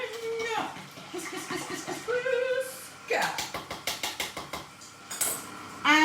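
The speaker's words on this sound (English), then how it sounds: "Whisk." Cake batter whisked in a bowl for a birthday cake, a run of quick rhythmic metallic taps and scrapes against the bowl, set between stretches of speech close by.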